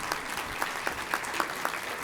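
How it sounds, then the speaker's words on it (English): Audience at a community breakfast event clapping to welcome a new member, a soft, distant, steady patter of many hands with a few sharper individual claps standing out. "we'll give everybody a round of applause and welcome you"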